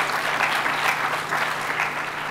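Steady applause from an audience, a dense wash of clapping hands that holds throughout at a strong, even level.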